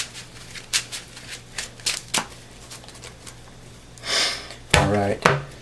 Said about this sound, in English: Alright, shuffled